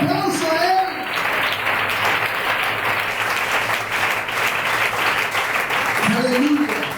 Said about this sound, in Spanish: Denle un aplauso al Señor en esta mañana.